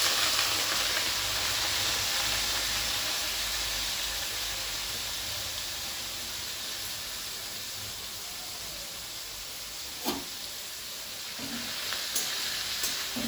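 Sliced onions frying in hot oil for a prawn curry, a steady, fairly quiet sizzle and hiss throughout, with a couple of faint clinks near the end.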